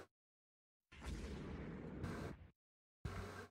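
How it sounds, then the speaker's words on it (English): Heavy naval gunfire in the Rule the Waves 2 warship game: two loud booming bursts from big guns, the first a long rumbling report lasting over a second, the second a sharp blast after a short silence, with no talk. "Got them with a couple torpedoes and another set of heavy rounds."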